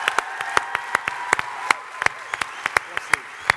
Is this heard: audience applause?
yes